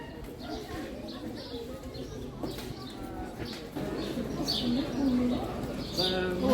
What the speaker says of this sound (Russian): О, даже птицы поют.